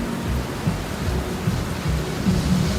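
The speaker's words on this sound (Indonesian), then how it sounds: "diiringi hujan yang lebat." Heavy rain pours steadily as a dense, constant hiss, with low rumbles of thunder swelling several times underneath, a storm effect in an audio drama.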